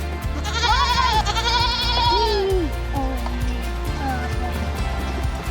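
Goats in a new wooden barn, bleating repeatedly and close by: several wavering cries overlap early on, then shorter calls follow over a steady background hum, with scattered knocks and shuffling.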